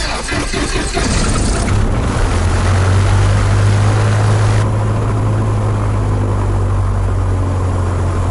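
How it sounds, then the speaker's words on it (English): A carbureted aircraft piston engine on a cold start cranks briefly, then catches and settles into a loud, steady, close propeller drone that runs to the end. "that was a pretty good engine start for a carbureted engine with a cold start"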